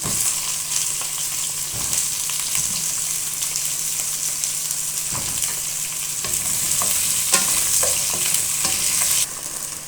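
Potato and brinjal frying in hot oil with panch phoron and turmeric, a loud continuous sizzle broken by repeated scraping stirs of a spoon against the pan, close up with no talk.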